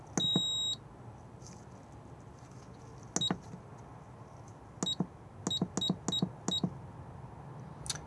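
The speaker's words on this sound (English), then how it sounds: "We can have key beeps on and off." Short electronic key beeps from the control panel inside an Auto-Sleeper Wiltshire motorhome, one at the start and then a quick irregular run of single beeps, close and clear over quiet room tone.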